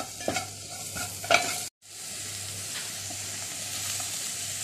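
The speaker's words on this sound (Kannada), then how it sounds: "ಇದನ್ನು ಹಾಕಿ ಚೆನ್ನಾಗಿ ಈಗ ಮಿಕ್ಸ್ ಮಾಡುವ. ಇದೆಲ್ಲ ಎಣ್ಣೆಯಲ್ಲಿ ಸ್ವಲ್ಪ ಫ್ರೈ ಆಗಬೇಕು." Cumin powder, coriander powder and garam masala stirred and frying in oil for a potato samosa filling, with a close, steady sizzle, a few sharp spoon scrapes early and a brief drop-out midway.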